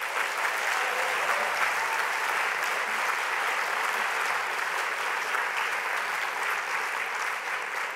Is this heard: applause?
yes